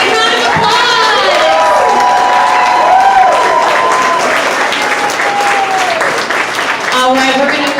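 A crowd at an awards ceremony honoring Nevada progressive leaders claps loudly and continuously, with cheers and whoops rising above the applause and voices mixed in throughout.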